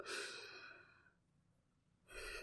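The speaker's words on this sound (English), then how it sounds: "So you can just do like 3 slow breaths." Slow, deep breathing: a long, audible breath out fades into a quiet pause before the next breath in begins, soft and close with no talking.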